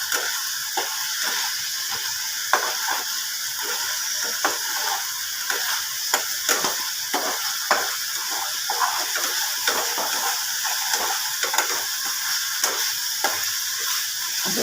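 Dal sizzling in a pan as its water cooks off, a steady bright crackling hiss with small stir clicks and scrapes throughout, close and continuous.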